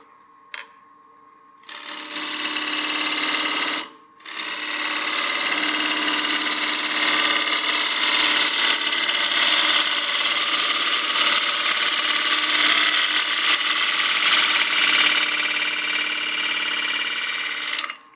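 A wood lathe turns a wooden succulent planter, a loud steady whirring and scraping from the cutting tool that starts after a brief quiet moment, pauses for an instant, then runs continuously close by.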